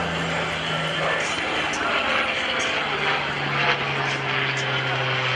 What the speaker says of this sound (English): From the right, Sean Carroll and his Yak-9.